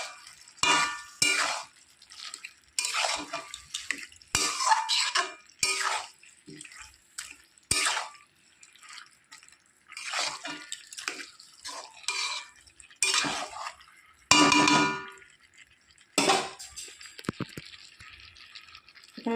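Potatoes and spinach being stirred and sautéed in a pan, with repeated scraping and clanking bursts of a spatula against metal, close and fairly loud, separated by short quiet gaps.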